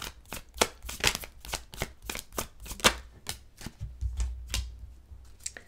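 A deck of tarot cards is shuffled close by in a steady run of quick, crisp riffling snaps, with no talk over it.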